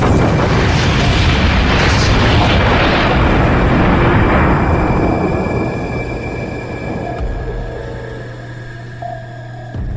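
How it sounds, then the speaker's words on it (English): Torpedo explosion in a submarine audio drama: a loud, broad roaring boom that fills the opening seconds, then rumbles and slowly decays into a lingering low hum with faint tonal ringing, with no voices over it. "That explosion has our ears ringing."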